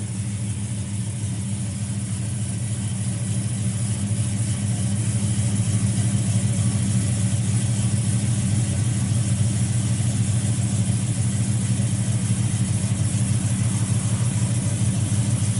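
A 1970 Plymouth Duster with a 383 V8 and 727 TorqueFlite transmission idles steadily, a deep, continuous rumble held close and even throughout with no clear revs.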